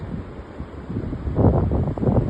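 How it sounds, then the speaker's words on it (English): Strong storm wind buffets a campsite at Morgan Bay on the coast, roaring and rushing against the microphone with gusts swelling louder near the end, no voices heard. "The wind is just too strong for him to try and re-erect anything."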